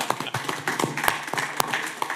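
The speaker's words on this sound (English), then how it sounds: "Can we give her a round of applause?" Scattered handclaps from people at a city commission meeting in Boynton Beach, Florida, sounding as a loose run of separate, fairly close claps rather than a full ovation.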